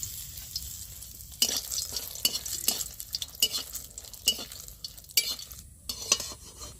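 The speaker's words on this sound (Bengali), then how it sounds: "সেই তেলেই দেখো আমি কয়েকটা শুকনো লঙ্কা ভেজে নিচ্ছি" Dried red chillies fry in leftover oil in a wok, crackling and sizzling steadily while a utensil scrapes and taps the metal in irregular, fairly close strokes.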